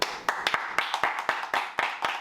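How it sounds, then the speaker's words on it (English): A small group clapping for a guest on a podcast, sharp, distinct claps in a steady rhythm of about nine beats, close and moderately loud with no talking over them. "Round of applause, guys."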